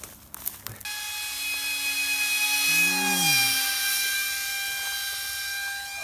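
A homemade ducted fan mini jet plane flies overhead, its steady high-pitched whine holding for several seconds with a pitch sweep as it passes, after a brief clatter at the start.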